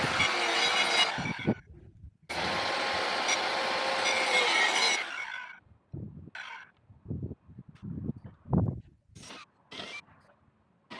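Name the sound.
cutting plywood for van flooring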